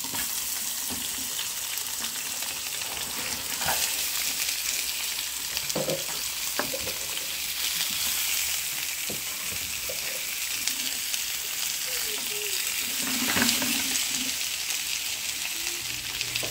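Cut pork sizzling and frying in a pan on a kitchen stove, a steady crackling hiss with occasional stirring clinks and scrapes, close and moderately loud, with no talking.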